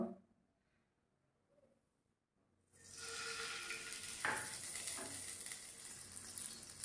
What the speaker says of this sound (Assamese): প্ৰথম আমি অলপ ঘিউ দিছোঁ, ড্ৰাই ফ্ৰুটছ ঘিউ দিয়ে ভাজিব লাগিব।